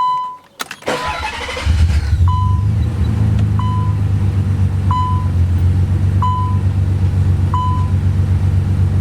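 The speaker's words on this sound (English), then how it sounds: "now that the starter has been reinstalled, let's see how easy it turns over" Nissan 300ZX Twin Turbo engine cranking over on a newly reinstalled starter, a loud rough rumble after a brief click, with a steady chime beeping repeatedly in the background.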